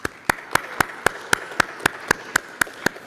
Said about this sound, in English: let's have one last round of applause for the winners